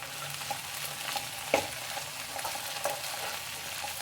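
Spices being stirred in a hot pan with coriander leaves and mint for a mutton saaru, a steady sizzle with soft scraping strokes and one sharper clink of the spoon, close and moderately loud.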